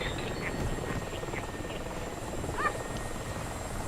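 A Mi-24 helicopter hovering in a combat video game makes a continuous low rotor drone and rumble throughout, with faint chirping effects on top.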